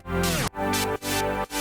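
A stereo-widened synth for a K-pop track throbs in filtered, gated bursts with a short gliding pitch drop at the start, the chops repeating about every half second.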